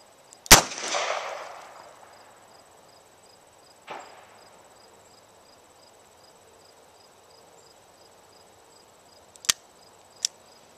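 A Smith & Wesson 640 revolver fires one loud, sharp shot at a range, its ringing decay trailing off, followed later by a fainter crack and two distant shots from other shooters.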